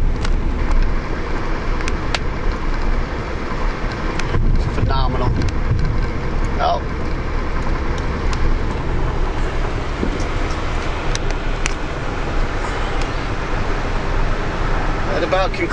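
Steady road and engine drone from inside a 2005 VW Jetta TDI diesel sedan cruising at highway speed around 65 mph, continuous and loud throughout with wind rush and faint talk under it.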